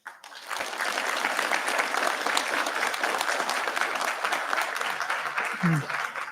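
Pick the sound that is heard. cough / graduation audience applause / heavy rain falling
graduation audience applause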